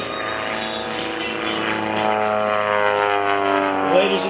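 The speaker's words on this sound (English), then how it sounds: "He's definitely pushing this airplane today." A 300-horsepower aerobatic propeller airplane performing at an airshow at Greenwood Lake, its engine droning steadily and loudly with a rising, straining pitch as it maneuvers.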